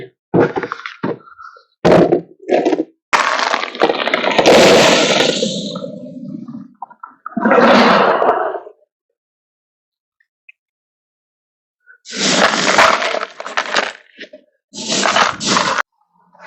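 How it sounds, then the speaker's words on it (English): Bursts of coarse scoria gravel pouring and rattling into a pot full of water, several separate pours with quiet gaps between them, close and loud. "So I'm going to pour the scoria into our pot."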